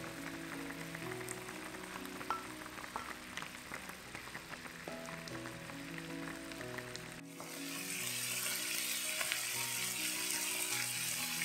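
Prawns and clams dropped into a hot pan for black garlic seafood pasta set off a loud, steady frying sizzle that grows brighter and more intense partway through, heard under soft background music without talk.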